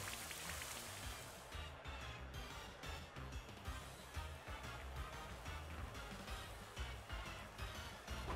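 Steady rain from the Rain Dance move in the Pokemon Sword and Shield video game, a continuous dense hiss of falling drops with clattering game effects layered on top, loud and unbroken throughout.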